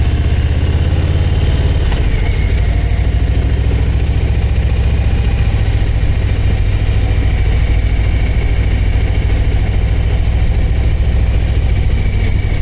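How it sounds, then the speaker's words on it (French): Harley-Davidson Low Rider ST motorcycle engine idling close by, a steady, loud, rough low rumble that holds without a break for the whole stretch. "C'est plus rugueux comme moteur."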